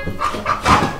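Dogs let out a quick run of short, excited yips and barks, three or four in close succession, nearby.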